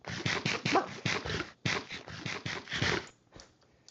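A pug dog whimpers and yips in a quick run of short, strained whines, loud and close, broken by one brief pause before trailing off into quiet.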